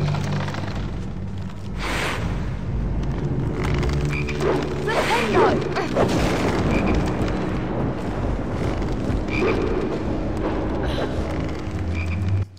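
Frog croaking in the PS2 game Harry Potter and the Chamber of Secrets, a few low croaks rising over a steady game soundtrack and ambient hum, with a voice talking intermittently.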